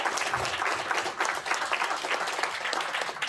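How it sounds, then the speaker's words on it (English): Dense, steady audience applause for three women on stage, a continuous wash of many hands clapping together, fairly close and even in level throughout. "Big round of applause."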